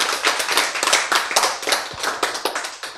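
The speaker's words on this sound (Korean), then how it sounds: "이거 박수 한번 해." An audience at a Bible lecture claps hands together in a steady, dense round of applause, close and loud throughout, with no talking.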